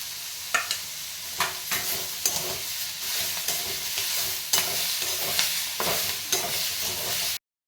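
Chigalchi leafy greens with crushed peanuts stir-fried in a pan give a steady close sizzle, broken by repeated scraping strokes of a spatula at irregular intervals, with no talk.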